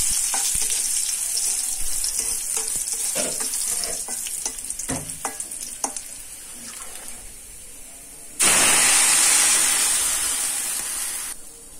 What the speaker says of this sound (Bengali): এই বাগারের আওয়াজটা আমার খুবই ভালো লাগে